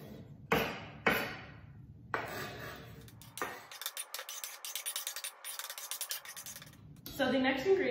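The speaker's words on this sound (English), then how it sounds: "we're going to take our knife and just scrape the chopped cilantro into our bowl" Chef's knife scraping chopped cilantro off a cutting board into a mixing bowl for cilantro cream sauce, heard as a few sharp scrapes and knocks, then a longer rattling scrape close up, with no talking.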